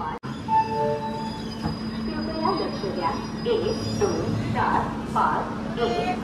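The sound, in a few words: passenger train arriving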